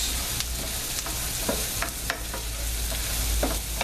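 Breakfast frying in a pan with extra grease, a constant close sizzle broken by a few sharp spatula scrapes and stirring clicks, no voices over it.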